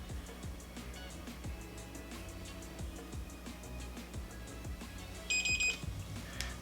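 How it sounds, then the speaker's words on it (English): A SmartMi P1 air purifier gives a short electronic beep during a Wi-Fi reset: a brief, quiet tone near the end over faint background noise, with no talking. "There's the beep."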